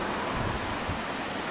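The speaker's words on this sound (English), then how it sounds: "See the force of the river there." A forceful river churning and boiling beside a road near Prince George on an Alaska trip, heard as steady broadband rushing water with some wind noise, no talk.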